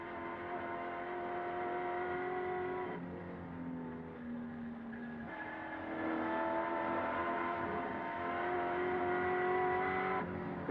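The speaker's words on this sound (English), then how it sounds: "Gear change for Peter Brock as he moves up to Toledo Tools' turn, brings him up to the top of the mountain" Peter Brock's race car at the 1986 Bathurst 1000 drives hard up the mountain, its engine droning loudly and steadily, with a few gear changes breaking the pitch and no talk over it.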